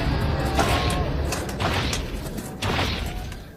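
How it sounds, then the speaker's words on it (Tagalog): Heavy footsteps of Erza, an anime character, land as three or four loud, booming, slightly creaking mechanical thuds spaced about a second apart, with no talk over them. "Yun ang tunog ng yapak ni Ersa."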